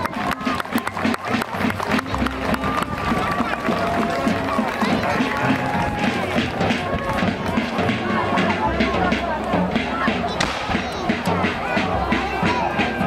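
At the 2015 reenactment of the Battle of Tolentino, an outdoor crowd applauds and cheers during an assault by Austrian troop groups. The steady clapping and hubbub is mixed with nearby voices talking.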